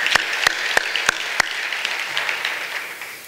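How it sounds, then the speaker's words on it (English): A conference audience applauds a panel, opening with a few sharp, distinct claps before a dense, even patter of clapping that fades gradually, heard from within the room with no talk. "Let's give the last panel one more hand of applause."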